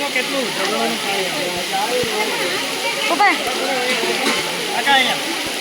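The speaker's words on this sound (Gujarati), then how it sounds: "જો સામેથી ઝરણું જાય." A small mountain stream rushes steadily beside the Tapkeshwar Mahadev temple in Gir Gadhda, Gir Somnath, while people talk over the continuous water noise.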